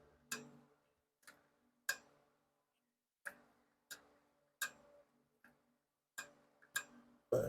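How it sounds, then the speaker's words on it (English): Crisp isolated clicks from a torque wrench set to 12 foot-pounds tightening the oil drain plug on a 2022 Polaris Sportsman 570, about a dozen sharp clicks in an irregular rhythm, close and clear against near silence. "we've got our torque wrench set to 12 foot-pounds"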